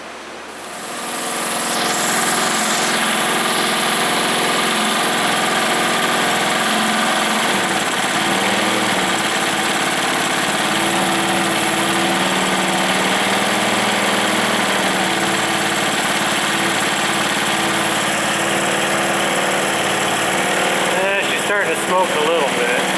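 A 1970s Honda ATC three-wheeler, a 90 or 110, runs at a steady idle for the whole stretch with a constant buzzing engine drone. It starts up in the first couple of seconds and stays close and loud throughout.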